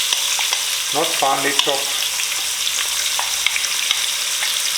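Chopped onion frying in spiced oil in a pot on medium-high heat for Durban curry, a close, steady sizzle with light stirring clicks, while someone speaks briefly near the start.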